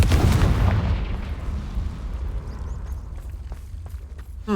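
An explosive Confringo spell goes off in the Hogwarts Legacy video game, a loud booming blast that hits at once, then rumbles and fades into a low, debris-filled tail.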